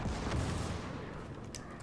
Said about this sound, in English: That is anti air. Anti air gun.